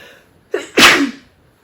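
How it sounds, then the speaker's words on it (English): A single sneeze, close and loud: a short sharp intake followed by a forceful burst that trails off, with quiet around it. "I'm going to sneeze."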